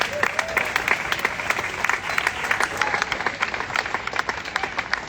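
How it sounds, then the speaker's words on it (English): A rally crowd in Melbourne breaks into a big round of applause, many hands clapping continuously at moderate volume with a few scattered voices underneath. "A big round of applause for Basil."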